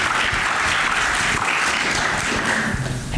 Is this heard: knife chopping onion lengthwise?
no